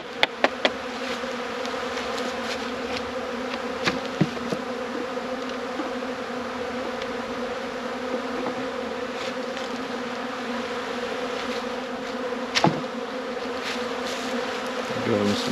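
Honey bees at an open hive during spring inspection, making a steady, close, dense buzzing drone throughout, with a few faint knocks and no speech.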